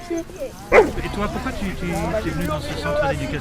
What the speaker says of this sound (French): Première chose, c'est un malinois.